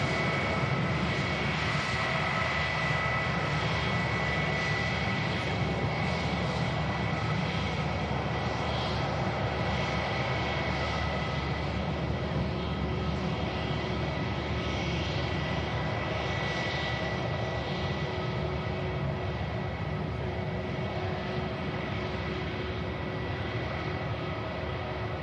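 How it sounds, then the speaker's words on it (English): An Airbus A320 jet at Manchester Airport gives a continuous broad engine roar with a steady whine, loud and unbroken for the whole stretch, with no voices over it. "A320 heading back to London Heathrow."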